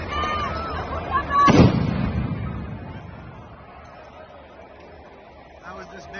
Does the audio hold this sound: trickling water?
no